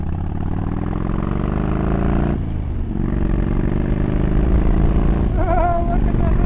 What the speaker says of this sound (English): that wind is something else without a windshield